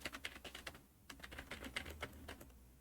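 Fingers tap on a computer keyboard in quick, uneven bursts of clicks with a brief pause, quiet and close, with no talking.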